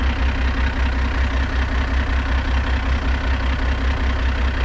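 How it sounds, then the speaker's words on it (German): Camper van engine idling after a steep climb, a steady low rumbling drone with an even rhythmic pulse, close and loud throughout, no talk. "Motor laufen lassen, bis er sich wieder abgekühlt hat."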